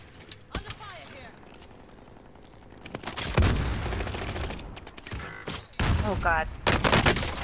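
Gunfire in a video game: bursts of automatic shots rattle in clusters, loud and close, while players talk urgently over the fight.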